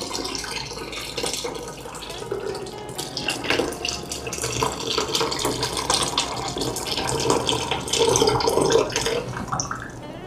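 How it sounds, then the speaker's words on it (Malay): Water runs steadily into a pot of asam laksa for several seconds, a continuous splashing, gurgling pour close by, with light kitchen clatter and no talk. "dia dah pecah minyak, kita masukkan air"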